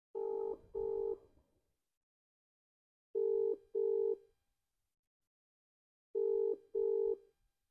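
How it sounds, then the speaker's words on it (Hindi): Outgoing phone call ringback tone heard while waiting for a mother-in-law to answer: three clean double-pulse rings spaced about three seconds apart, steady and electronic with silence between. "मैं 10-15 मिनट में उनको फ़ोन करके देखती हूँ"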